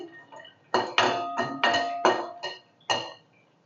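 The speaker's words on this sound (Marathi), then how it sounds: "काजू पण छान अगदी भाजून घ्यायचे" Cashews being dry-roasted in a pan, heard as a string of close, sharp metallic clinks and scrapes from stirring, irregular and bright with quiet gaps between them.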